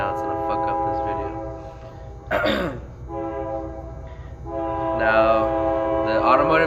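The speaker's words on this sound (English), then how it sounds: "this fucking train's gonna come right now" A train horn sounds nearby in long, steady harmonic blasts that rise and fall in loudness for several seconds, with someone talking over it in bursts.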